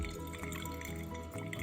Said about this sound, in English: So now we're going to pre-wet the filter, rinse the filter and preheat our vessels.